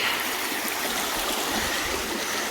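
Creek water streams steadily over a broad shelf of bedrock that spans the channel, giving a continuous close, full rushing wash with no talk over it.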